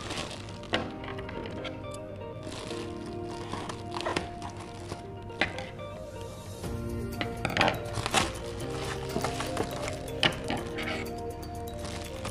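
Stand mixer utensils being unpacked, with scattered close thunks, knocks and light metallic clinks at an uneven pace over background music.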